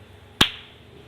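One sharp, close hand clap before an interview recording, a single crisp crack with a short fading tail in an otherwise quiet room.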